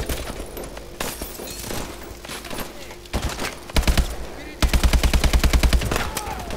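Gunfire in Call of Duty: Advanced Warfare comes first as scattered single shots and short bursts, then builds into loud, rapid, evenly spaced automatic fire in the last seconds.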